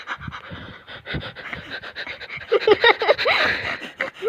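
A dog pants heavily in rapid, rhythmic breaths close by, steady throughout with a louder stretch in the latter half.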